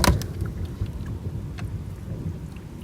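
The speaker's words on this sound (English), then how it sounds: "It is just miserable, rainy, stormy weather here." Thunder rumbles with a sharp crack at the start, followed by steady rainfall on a stormy day in England, loud and close with no voices.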